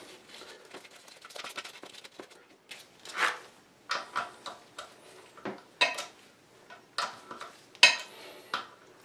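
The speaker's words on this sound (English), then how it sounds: "So simple ratchet and socket." Ratchet and socket loosening 7/16 nuts that hold a toilet bowl to the floor, giving a run of quick metallic clicks in short bursts, close and fairly quiet.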